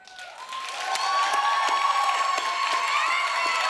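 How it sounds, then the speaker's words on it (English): A studio audience at a Steve Harvey dating show erupts in cheering and whoops mixed with clapping, swelling within the first second and then holding loud and dense to the end. "by round of applause if you think it's Rich"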